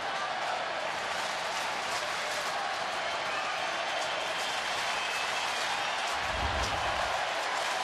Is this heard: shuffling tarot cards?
no